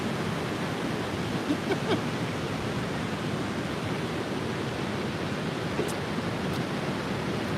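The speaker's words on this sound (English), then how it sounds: "I know these waves are probably loud." Ocean waves on the West Coast form a steady, loud, broadband wash of surf that fills the whole stretch without breaks, with only faint brief ticks standing out above the continuous roar.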